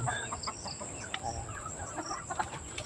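Several chickens cluck and murmur nearby in a backyard coop, some still on their roosts, in short, irregular bursts over quiet background noise.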